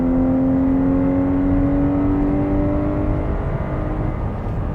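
A 2024 VW Atlas Peak Edition's engine revs hard climbing uphill off-road toward 6,500 RPM, a steady rising drone with strong harmonics that holds loud and continuous throughout, heard from inside the cabin.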